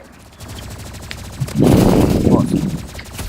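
Energy pistols fire in the Roblox shooter Rivals, a burst of rapid electronic shots swelling loudly mid-clip over a low background of game noise and chatter.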